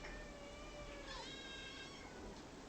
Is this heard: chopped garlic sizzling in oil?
no